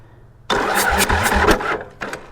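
A cold engine with decompression fittings on both heads cranks and catches with a loud rough rumble, sputtering unevenly for a moment before settling, close by with no speech.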